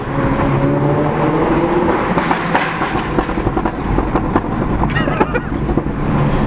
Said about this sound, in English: It sounds like a supercar doing all those pops.